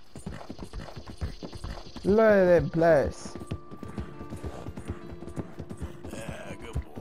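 Horse hooves clip-clop in a rhythmic trot in Red Dead Redemption 2 while the horse gives a loud whinny; someone speaks briefly over it.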